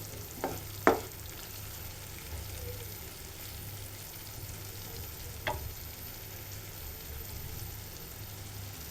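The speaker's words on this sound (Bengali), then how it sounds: "আমি এখন ধনিয়া পাতা দিয়ে দিলাম, একটু নেড়ে মিশিয়ে নেব।" Shrimp bhuna is stirred in a pan after coriander leaves are added. A quiet, steady sizzle runs throughout, broken by a few sharp scrapes of the spoon against the pan.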